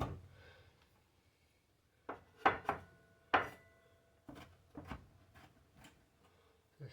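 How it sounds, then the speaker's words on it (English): A knife chops a small pepper on a board in a few sharp, close knocks, spaced irregularly after a quiet pause. "so I'm just going to chop this little pepper"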